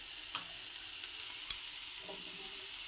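Spices with a pinch of turmeric fry quietly in a pan, a faint steady sizzle broken by a few soft stirring clinks and scrapes.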